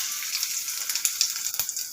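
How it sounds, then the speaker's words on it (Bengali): Papad potato rolls fry in hot oil with a close, steady sizzle and occasional sharper pops and crackles. "দুটো তেলে ছেড়ে দিলাম।"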